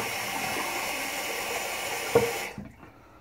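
Hot water runs steadily from a tap into a sink, a continuous hissing splash that carries on for a few seconds, then cuts off abruptly as the faucet is shut, leaving a few faint drips.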